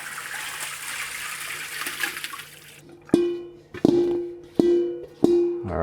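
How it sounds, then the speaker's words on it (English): Cooked ingredients and water for Chinese takeout-style egg rolls, with pork and shrimp, poured into a big colander in several heavy splashing gushes, each one sharp and loud before it trickles away. A steady background hum runs underneath. "I'm just gonna pour everything into the colander."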